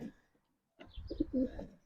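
A pigeon cooing close by, a short soft burst of low throaty coos after a brief quiet pause, with no talking.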